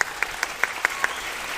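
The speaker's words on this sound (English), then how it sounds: "Please give yourselves a round of applause." A large audience claps and cheers during a Hall H panel at San Diego Comic-Con 2019, a dense, steady roar of applause filling the room with a few sharper claps standing out at a regular beat.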